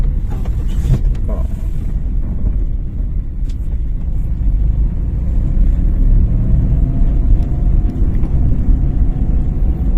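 Car moving slowly during a driving lesson, heard from inside as a steady, loud, low engine and road rumble with no voices.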